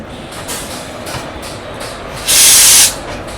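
A train hauled by a WAP4 electric locomotive from the DLTP shed stands at a railway station, with a steady rumble and a loud burst of hissing air partway through, no talk.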